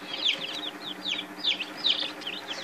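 Young light Sussex chicks in an indoor brooder give soft, rapid peeping chirps in quick repeated clusters, faint and close, with no talk.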